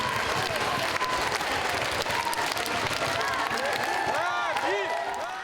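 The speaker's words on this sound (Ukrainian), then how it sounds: "У залі аншлаг емоцій і оплесків фанати гурту не шкодують" Fans of a band applaud in a packed hall at a charity concert in Vinnytsia, a steady wash of clapping filling the whole stretch, with voices and a rising tone near the end.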